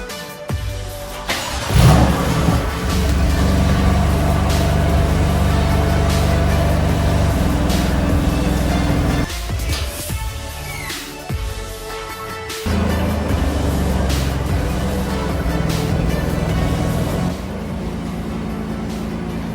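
A BMW M4 engine runs close by after an oil change, holding a steady, loud idle with a brief rev near the start and a short dip midway before the idle picks back up.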